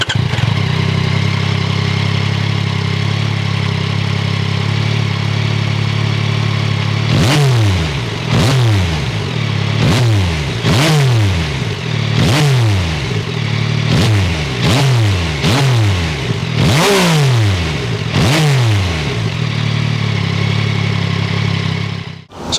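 A 2024 Yamaha XSR900 GP motorcycle fitted with an Akrapovic exhaust idles loudly and steadily nearby, then snaps through a quick series of sharp throttle blips, each rev rising and falling back to idle.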